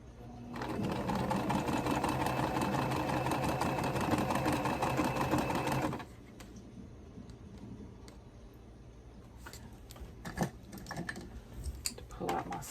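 A domestic sewing machine piecing quilt row blocks runs in a fast, steady mechanical rattle for about six seconds, then stops, leaving quiet handling clicks and small taps.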